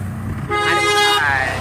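A tempo vehicle passes on the road near Kashid beach in Alibag and sounds a loud, close horn held steadily for over a second, with faint engine rumble underneath.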